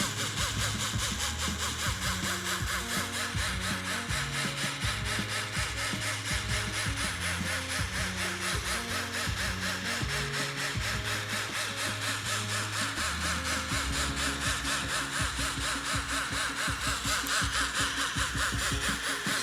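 A toy robot snail's wheels spin freely, giving a steady, continuous mechanical whir and buzz that holds at an even level for about twenty seconds with no pauses.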